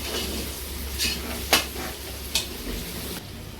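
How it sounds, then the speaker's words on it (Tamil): Green chilies fry in a pot of biryani base with a constant soft sizzle, while a spoon stirs and knocks against the metal with a few sharp clinks. "பச்சை மிளகாய் போட்டு நல்லா கிண்டும்"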